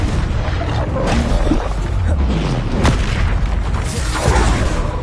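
A Confringo explosive spell from Hogwarts Legacy going off in a rapid chain of booming blasts and crashes with whooshing bursts, loud and dense throughout, with battle noise packed between the hits.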